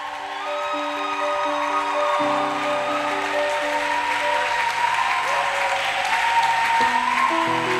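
Church congregation breaking into sustained applause and acclamation during a French-language worship service, a dense steady roar of clapping and voices lasting throughout, with bright sustained keyboard or organ tones playing underneath.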